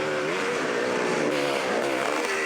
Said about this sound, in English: Evan Pretorius on a CZ, listen to that thing